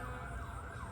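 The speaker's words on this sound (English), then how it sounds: "That's a fire truck." A fire truck siren wails from a main road some distance off, a steady rising and falling tone heard faintly over low traffic rumble.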